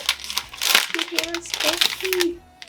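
Paper crinkles and rustles as a mystery box package is opened, in short uneven bursts close by, while a person talks over it.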